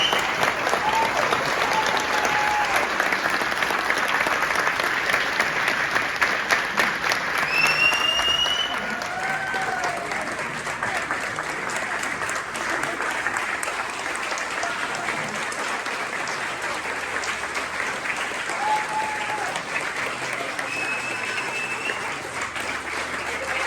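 Sustained audience applause for award recipient Robin Scott at a UW–Green Bay Chancellor's Community Service Award event: steady, dense clapping from a crowd across the whole stretch, slightly louder at first, with faint voices underneath.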